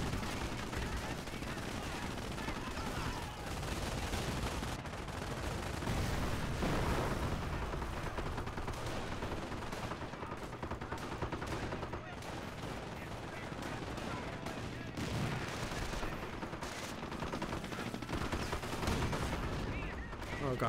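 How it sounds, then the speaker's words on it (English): Mortar fire in a Company of Heroes Normandy battle, with repeated thudding impacts and blasts amid steady crackling gunfire and machine-gun bursts, a dense war-game din throughout with talk at times. "it's just these mortars that are causing so much pain"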